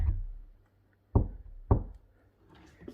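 A tightly fitting, freshly painted interior door knocks against its frame as it is pushed shut, two sharp, loud thuds about half a second apart, followed by faint rustling.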